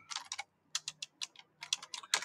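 Computer keyboard keys tapped in quick irregular bursts with short pauses, close and fairly quiet, while Java code is typed during a programming lesson.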